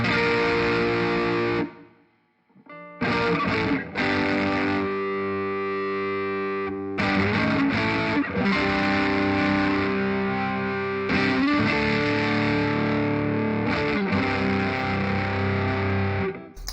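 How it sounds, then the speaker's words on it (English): An electric guitar plays chords and sustained notes through a warm, moderately overdriven tone from an overdrive pedal, with a brief pause before ringing on. "it's not distortion, it's an overdrive, so it's a warm overdrive"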